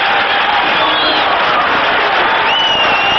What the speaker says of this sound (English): the crowd beginning to applaud and get at it